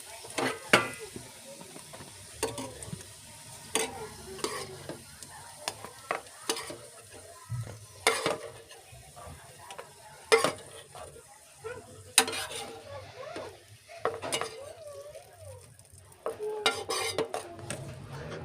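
Raisins sizzle in hot oil in a pan on the stove while a spoon stirs and scoops them out, bringing repeated metallic scrapes and clinks over a steady soft frying hiss that runs throughout, close to the ear.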